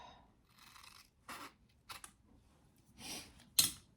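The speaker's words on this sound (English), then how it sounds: "I am going to cut off my excess zipper ends" Scissors snipping off excess zipper ends during sewing, a few separate crisp cuts spaced irregularly, close and fairly quiet with no talk.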